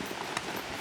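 Horse hooves clip-clop along a mountain trail, a brief, steady patter under constant background noise with one sharper hoof strike standing out.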